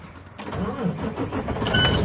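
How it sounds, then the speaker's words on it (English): A truck being started during an air brake system test, the engine cranking and catching into a mid-pitched running note, fairly close, with a short whine near the end. "Okay, we're going to start the vehicle back up."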